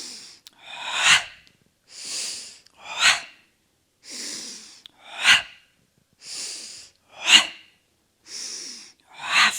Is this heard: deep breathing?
yes